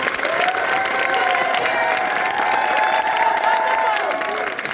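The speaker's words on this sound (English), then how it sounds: "Let's do small claps first, medium claps" An audience claps in unison on cue, practicing small and then medium claps, a steady, full wash of hand claps with some cheering and a voice speaking over it.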